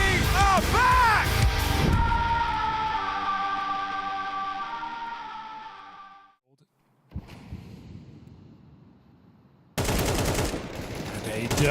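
Bursts of rifle gunfire crack through a professional Counter-Strike major match, mixed with swelling crowd noise and an excited commentator's voice. The firing is loud and clustered at the start and again near the end.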